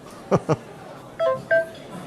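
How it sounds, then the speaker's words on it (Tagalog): Mobile phone text message alert: two quick tone blips followed by two longer electronic beeps, clear and close over quiet background. "Uy, sino kaya ito nag-text?"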